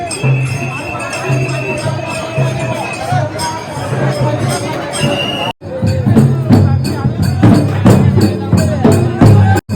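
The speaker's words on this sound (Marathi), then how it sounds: "खूप गर्दी आहे रस्त्यामध्ये." A busy road crowded with pilgrims heading to a fair, dense crowd noise with overlapping chatter and voices close by, briefly cutting out midway before resuming with louder, more rhythmic babble.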